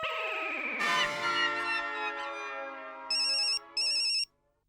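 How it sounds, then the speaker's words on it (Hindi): A phone ringtone plays two short bursts of a bright electronic ring, following a swelling melodic musical sting, in a Hindi TV comedy scene. "जेठिया का फोन?"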